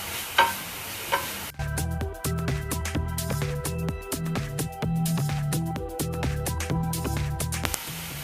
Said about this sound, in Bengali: বাঁধাকপিটাকে 2 মিনিটের মতো নেড়ে চেড়ে দেন